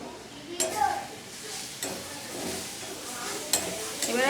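Homemade burger filling, seasoned with soy sauce, fries in a pan with a constant sizzle and several sharp spatula scrapes and knocks against the metal, close up and fairly loud.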